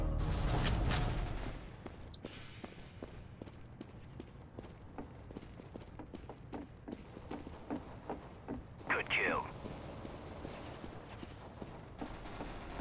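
Rapid gunfire in the video game Counter-Strike: Global Offensive, a long run of sharp, evenly spaced shots at moderate level, with an early burst and a brief louder flurry near the end, a voice talking over it.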